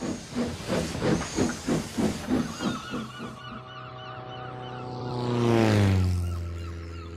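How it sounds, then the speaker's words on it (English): Rhythmic chuffing puffs of a steam engine, about a dozen in a row, then a long rising hiss and a deep whistle-like tone swelling near the end. "And he puffed away in a cloud of steam."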